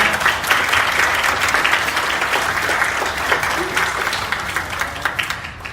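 An audience at a Chinese group's business partnership event in Korea gives a sustained round of applause to welcome a company representative, dense and even clapping throughout with faint voices mixed in.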